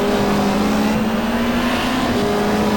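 Super touring race cars from a 1995 championship round at Mallala, one an Alfa Romeo, roar into a hairpin with loud, continuous engine howl close by.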